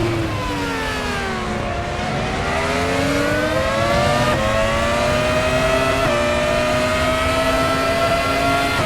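An F1-style FR X-17 racing car in RaceRoom Racing Experience at Chang Buriram, its high-pitched engine screaming steadily with gear shifts and rising and falling revs, loud and close throughout.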